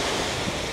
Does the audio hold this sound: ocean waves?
yes